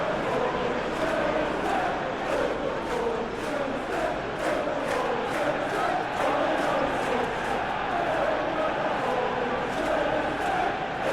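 Stadium crowd noise in a football video game match between Manchester United and Dortmund, a steady loud roar with rhythmic chanting pulses running throughout, heard alone without commentary.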